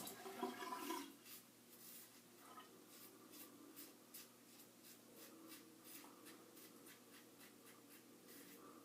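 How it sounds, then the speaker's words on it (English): Water runs faintly as a safety razor is rinsed, with a brief louder splash at the start followed by soft, rhythmic rubbing and scraping. "A little rinse off."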